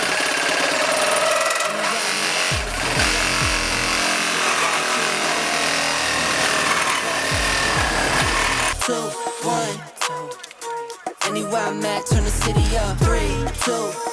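A GRAND reciprocating saw roars continuously through 25 by 25 metal pipe with its stock blade, then cuts out into sharp, rhythmic rasping and clanking bursts; loud and close.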